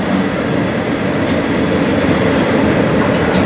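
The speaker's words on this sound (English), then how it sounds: "Yep, there is a train in there. It's not steam, it says class 25." Class 25 diesel train idling or moving at a station platform on the Scarborough to Whitby line, a steady, loud broadband rumble with engine drone that holds evenly throughout, no voices.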